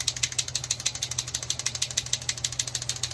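A Posca PC-3M paint marker shaken briskly, its mixing ball rattling in rapid, even clicks throughout, close and alone.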